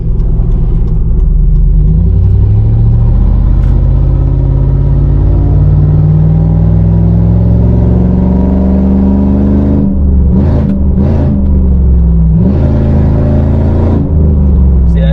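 A car engine with a blown transmission revs steadily to high RPM, a loud, close, droning rumble that rises slowly, then wavers and surges briefly near the end without the car pulling.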